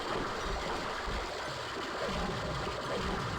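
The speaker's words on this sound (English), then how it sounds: "Why is the water so loud?" Loud, constant rushing water fills a scene in the video game Gauntlet: Dark Legacy, a dense broadband wash that stays steady throughout without pauses.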